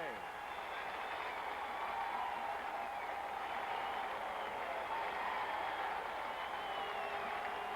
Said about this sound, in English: It's a standing ovation at the new Madison Square Garden